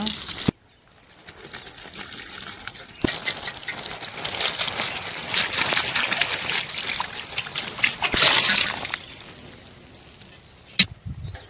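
A thin stream of water trickles and splashes steadily onto plants in a farm garden for several seconds, with a few sharp clicks and a brief break near the start.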